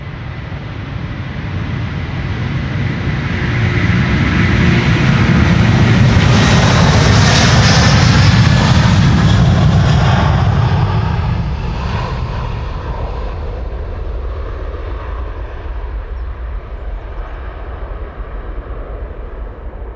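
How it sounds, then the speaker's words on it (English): A Delta Air Lines Airbus A330-300, 17 years old, roars past on takeoff from Amsterdam Schiphol Airport, its loud jet rumble swelling to a peak midway and then fading into the distance, with no voices. "Delta Airlines flight 47 to New York, JFK, A330-300"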